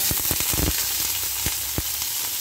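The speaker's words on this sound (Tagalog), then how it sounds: "pag mainit na yung ating oil, lalagyan natin yung meats" Meat dropped into hot oil in a wok, a steady sizzle with a few sharp crackles and spits, loud and close, no talking.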